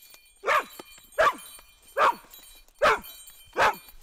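A rescue dog in training barks five times in an even, spaced rhythm, each bark loud and close, with quiet gaps between.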